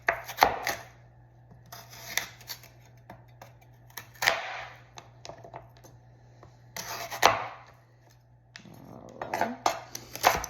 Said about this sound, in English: We're gonna cut up our celery.